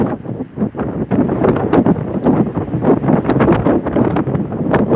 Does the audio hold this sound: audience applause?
no